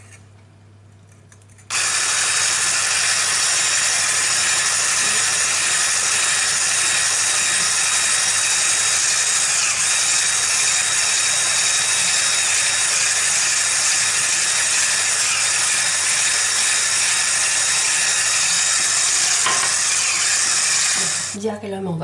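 An electric hand mixer starts abruptly and whirs continuously, loud and close, as it beats chocolate cupcake batter with oil, a steady buzzing hum with no pauses until it slows at the end.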